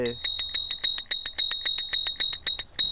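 A bicycle bell rings rapidly and loudly up close, a steady train of about seventeen sharp metallic dings with no pause.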